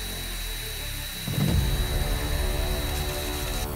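A power tool sands the wooden planking of a 1/30 scale model fishing ship, giving a continuous whining drone that ramps up and grows louder partway through, then holds steady up close, with no speech.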